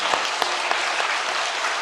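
During a church worship service, the congregation claps in a short, full burst of applause for mothers and fathers. The sound is dense and even and lasts just under two seconds.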